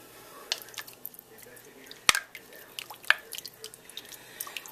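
Chicken with salt and pepper is stirred in a slow cooker, giving soft, wet squishing and dripping sounds with a sharp spoon knock near the middle and a lighter click later, fairly quiet and with no talking.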